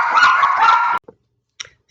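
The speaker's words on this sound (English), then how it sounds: "Sorry, barking dogs." A dog barks loudly and close by in a sustained burst lasting about a second, followed by a couple of short, fainter yips, with no talking.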